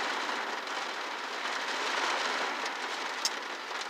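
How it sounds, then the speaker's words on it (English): Heavy rain pours steadily outdoors in Virginia Beach, a dense continuous hiss of drops hitting surfaces with no pauses. "it be raining hard out here"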